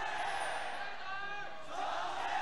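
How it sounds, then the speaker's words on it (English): Crowd at an LPL esports arena match between JD Gaming and Snake Esports chanting in unison, a dense roar of many voices with rising chant patterns, steady and loud throughout. "already you can hear the crowd chanting before the team logos are even on the screen"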